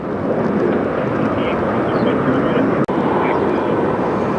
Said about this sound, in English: Alright, we finally might get a takeoff here.